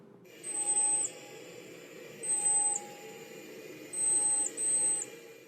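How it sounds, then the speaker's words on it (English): Rhinolophus bat echolocation calls slowed down ten times become four long, steady, whistling tones in slightly uneven pairs, each about half a second long, over a low hum, with no talk. "If we play a Rhinolophus call,"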